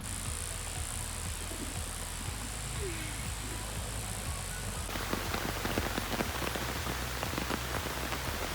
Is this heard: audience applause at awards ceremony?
no